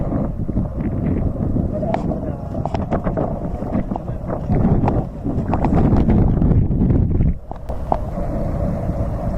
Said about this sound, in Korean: 바람 예보가 이렇게까지 없었는데 감이 1에서 5m로 나옵니다.